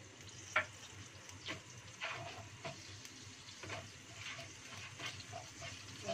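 Spice paste frying in a hot pan for chicken feet soup, a steady low sizzle with occasional stirring scrapes and clinks, fairly quiet and close, with no talking.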